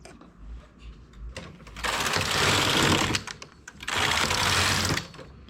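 A knitting machine works 2x2 ribbing with hooks and a small weight, making two long, loud rasping carriage passes separated by quieter mechanical clatter.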